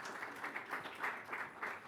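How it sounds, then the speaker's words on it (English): Audience applause at a Greek Independence reception, steady crowd clapping with rhythmic swells throughout, moderately loud and close, no talk over it. "And Father Alex, you can clap for him."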